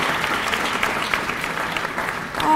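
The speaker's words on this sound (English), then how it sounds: "Please give our gospel choir another round of applause." Audience applause for a gospel choir at a Founders Day event, steady and continuous throughout, moderately loud, with no talk over it.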